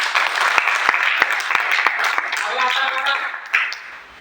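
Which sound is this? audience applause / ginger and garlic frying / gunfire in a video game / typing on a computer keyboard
audience applause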